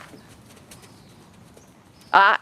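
A trail horse's hooves clip-clop softly and sparsely at a walk during a riding lesson. A short, loud voice cuts in near the end.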